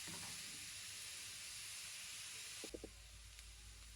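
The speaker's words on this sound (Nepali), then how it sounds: "यसरी चलाइ हामीले गाजरलाई भुट्नुपर्ने हुन्छ।" Grated carrots stirred and fried in ghee make a constant hissing sizzle, joined late by a few quick clinks and scrapes of a spoon against the pan, close and quiet, with no talking.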